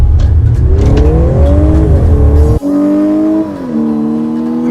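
A 2013 Audi S4 in dynamic mode pulls hard from about 20 mph, its engine and exhaust rising steadily in pitch through a gear, a sharp break at the shift, then climbing again, loud and close from inside the car.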